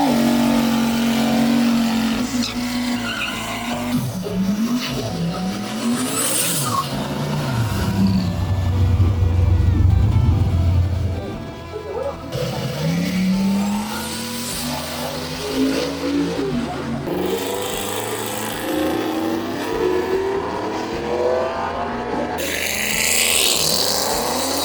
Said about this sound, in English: right over to my second favorite event, the drag races.